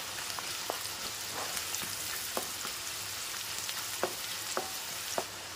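Onions frying in hot oil in a kadhai, a steady soft sizzle with scattered light scrapes and taps of a spoon stirring, fairly quiet and close.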